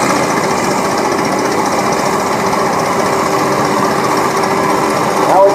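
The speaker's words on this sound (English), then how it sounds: "It's got the diesel motor in it." A diesel tractor engine drives in a vintage farm machinery parade at Rollag, producing a loud, continuous, even mechanical drone with a steady rattling texture from start to finish.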